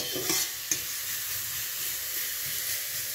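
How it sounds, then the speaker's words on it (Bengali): Sour okra chutney with salt stirred in a pan over steady, close sizzling and frying hiss, with a couple of brief scraping knocks near the start. "এবারে নুন দিয়ে রান্না করছি এবারে এটা।"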